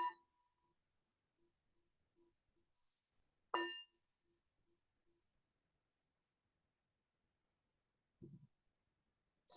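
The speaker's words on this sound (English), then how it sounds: "we'll let the bell invite us to come into the first meditation" A meditation bell is struck three times in a quiet room, each a clear ringing tone that fades quickly, with long silent gaps between strikes.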